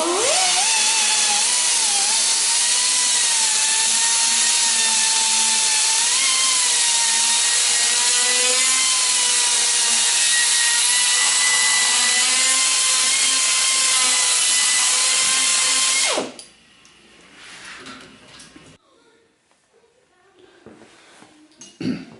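A 1/2-inch drill bores into the metal handlebar of a Harley-Davidson, a loud steady high-pitched whine that runs for about sixteen seconds and then stops abruptly, followed by quieter scraping and handling noises.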